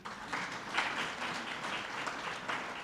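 An audience applauds at a government event welcoming 24 Cuban engineers to assist with water delivery, producing dense, steady clapping that fills the room without pause.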